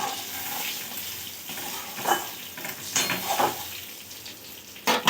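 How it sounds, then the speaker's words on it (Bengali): Nigella seeds drop into hot mustard oil, giving a close, continuous crackling sizzle with a few stirring scrapes and a sharp clink near the end. "এবারে ওতে ফোড়ন দিয়ে দেব কালো জিরে"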